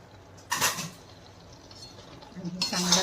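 Fried soybean Manchurian balls are tossed and stirred in a pan of gravy, two bursts of clattering metal-on-pan scraping separated by a quieter pause, close and fairly loud.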